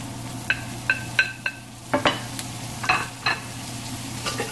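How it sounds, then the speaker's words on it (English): Italian sausages go into a pan and fry with a low, steady sizzle under a constant hum, broken by sharp clicks and scrapes of a utensil stirring against the pan. "Now, at this point, you want to add your sausages."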